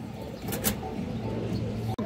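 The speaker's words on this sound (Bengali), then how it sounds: "খুবই সুন্দর এক পেয়ার সিলভার খাকি কবুতর দর্শক" A pair of silver khaki pigeons coo softly with low, steady throaty tones, close by over a faint background, with a brief flutter-like burst partway through.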